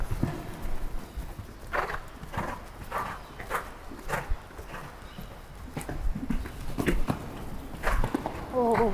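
A horse's hooves clip-clop at a steady walking pace, close by, during jump training, with a person's voice speaking and calling out in French over the steps.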